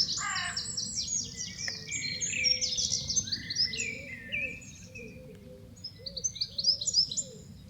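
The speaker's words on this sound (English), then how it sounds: "I'll just take you round through this border with just a little bird song in the background" Birdsong fills a country village garden border, with several birds chirping and trilling in overlapping phrases over a low steady background hum, moderately near and continuing throughout.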